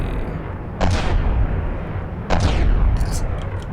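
Two heavy gun turret shots from the video game From the Depths, each a loud booming blast with a rolling rumble tail, spaced about a second and a half apart over a constant low battle drone.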